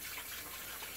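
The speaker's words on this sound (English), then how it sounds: "I'll go ahead and put some hot water in this brush and get it wet." Hot tap water running onto a shaving brush, a steady close hiss of flowing water lasting about a second with no talk.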